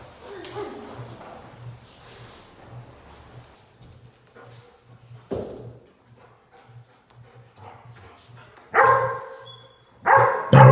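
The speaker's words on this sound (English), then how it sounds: "a quick bark and a quick reward, teaching the dog to guard that prey" A dog in protection training gives a few sharp barks, mostly near the end, over a faint regular ticking and low background noise.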